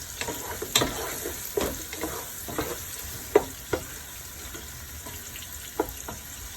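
Onion, chili, garlic and whole cumin fry in a pan with a steady sizzle, broken by several sharp stirring clatters and scrapes at irregular intervals, close and fairly loud.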